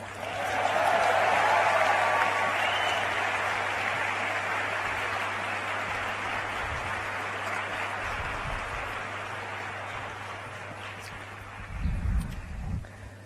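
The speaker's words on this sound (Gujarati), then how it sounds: "હસમુખભાઈ પટેલનું નામ બોલાય એટલે બધાને કેવી તાળીઓ પડે એમ" A large audience at a government appointment-letter ceremony in Gandhinagar claps in a long, dense wave that starts strong and slowly fades, with a low steady hum beneath and brief murmurs near the end.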